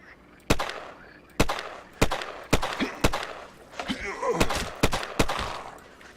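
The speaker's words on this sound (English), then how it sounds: "Shoot this lizard." Gunshots from the video game Will to Live Online, fired at a lizard, crack out one at a time in a steady rhythm, each loud and close, with quieter rumbling between them.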